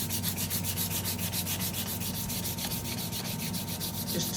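Steady back-and-forth rubbing of 600-grit sandpaper against a finished edge, a rhythmic, close, scratchy hiss repeating evenly throughout with no voice.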